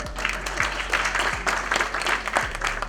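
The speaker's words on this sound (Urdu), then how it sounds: "کہ تالیاں ہو جائیں" An audience at a leadership talk applauds a group of hosts with dense, steady clapping that carries through the whole moment, over a low constant hum.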